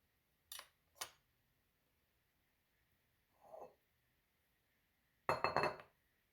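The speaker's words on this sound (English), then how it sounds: "These strips will now go into the glass bowl" Raw chicken strips dropped into a glass bowl in a home kitchen make a couple of quick clinks, then a soft thud and a longer rattling clatter of glass, each separated by quiet pauses.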